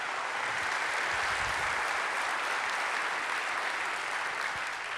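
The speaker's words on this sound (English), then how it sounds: "Let's give them all a big round of applause." Sustained applause from an audience at a Long Beach public affairs event honoring early learning and preschool efforts, a steady dense wash of clapping throughout with no talk over it.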